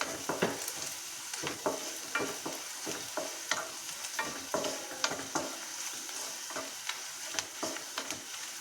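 Spatula scraping and stirring fried onions with red chili powder and turmeric in a pan, steady sizzle under repeated close scrapes and taps, no talk.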